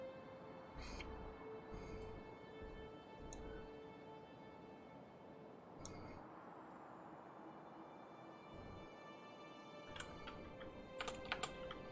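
Steady computer keyboard typing runs throughout, a continuous clatter of keystrokes at moderate closeness with a few sharper clicks near the end, no talking over it, during a Factorio PvP Biter Battles match.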